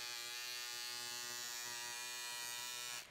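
An electric wood-burning pyrography pen gives off a steady, shaver-like electric buzz. The buzz is close and constant for about three seconds, then cuts off.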